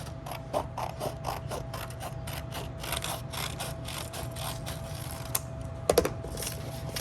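Scissors snip through folded paper to cut out an egg-shaped stencil, a steady series of crisp, evenly spaced close-up cuts with a few louder clicks near the end.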